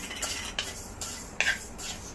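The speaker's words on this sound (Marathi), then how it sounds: "धणे हलकेसे गरम होई झाले की त्याच्यात आपण हे जिरं टाकूया" Coriander seeds and cumin dry-roast in a kadhai, rattling and scraping as a utensil stirs, a few distinct clinks and swishes, close and fairly quiet with no talking.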